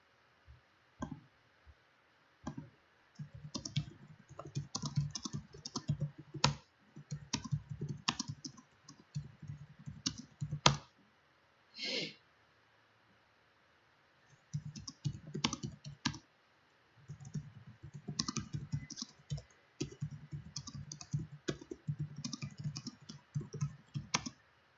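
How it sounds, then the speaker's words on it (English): Quiet, close-up typing on a computer keyboard comes in bursts of rapid clicking separated by pauses, including one long gap. Each burst is a busy patter of individual keystrokes. No voices. "I'm kind of typing right now"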